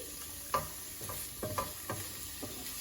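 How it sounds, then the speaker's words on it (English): Paneer frying in a pan for palak paneer, with a gentle continuous sizzle broken by several close scraping stirs of a utensil against the pan, no voices. "I'm gonna just keep stirring."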